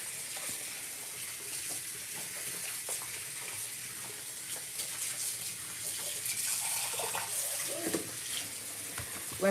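Tap water runs steadily into a sink of soapy water in a home kitchen, making a continuous close rushing splash with no voices over it.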